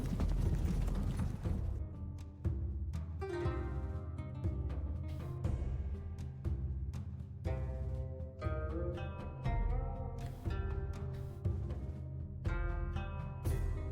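Horse hooves gallop in a rapid, steady clip-clop rhythm throughout, a mounted cavalry charge in the video game Sengoku Jidai, with no voices over it.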